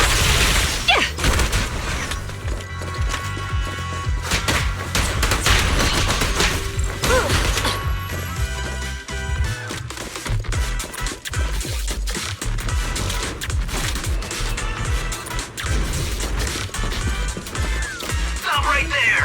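Gunfire fills a combat scene in the video game Zenless Zone Zero: dense, continuous rapid bursts with thumps and crashes layered over game music, loud and sustained throughout.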